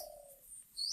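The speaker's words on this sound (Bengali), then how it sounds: "সুন্দর ঘুঘু পাখি ডাকতেছে এই লেচু গাছগুলোতে ঘুঘু পাখি আছে" A dove coos once or twice, faint and brief, somewhere among lychee trees outdoors, with a quiet background and no voices.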